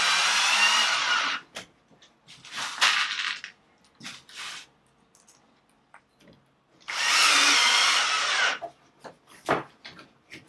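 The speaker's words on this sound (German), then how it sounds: "Schrauben wir den Ring einfach fest." A power drill drives a ring tight on a mobile air conditioner in a workshop, in two long loud whirring bursts separated by a stretch of clunks and handling noises.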